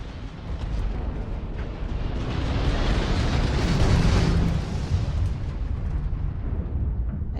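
Homing missile explosions tear apart an enemy ship during Starfield space combat, a loud, continuous roaring rumble of blasts that swells toward the middle and stays heavy to the end.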